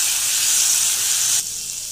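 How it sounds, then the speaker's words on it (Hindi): Garlic ginger paste sizzles steadily in hot oil, a loud, close, continuous frying hiss that drops noticeably quieter near the end as the heat or stirring changes. "अब इसे अच्छे से इसका कलर चेंज होने तक भून लें"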